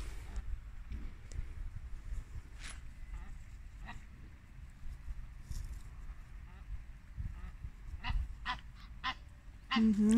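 Geese and ducks honk and quack sporadically at a distance outdoors, with scattered calls growing busier toward the end over faint background noise.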